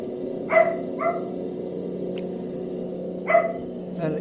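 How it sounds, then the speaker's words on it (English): Dog barking indoors, a few sharp barks in two clusters, clear but moderate, over a steady engine drone in the background. "My dog wants to go for a walk."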